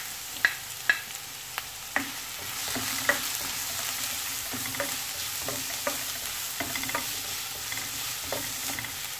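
Onion sautéing in a pan, a soft continuous sizzle broken by repeated sharp spatula clinks and scrapes at an uneven rhythm, heard close and without speech.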